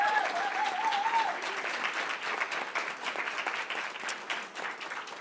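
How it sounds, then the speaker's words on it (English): A conference audience applauds a panel in a steady wash of clapping that holds at even strength before thinning slightly toward the end, with a voice speaking briefly over it at the start. "one more time, applause for the panel"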